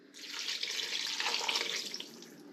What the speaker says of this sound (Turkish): burada da benim 300 miligram suyum var. Bunu da içine ilave edelim.